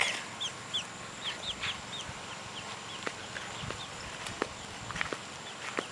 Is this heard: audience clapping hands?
no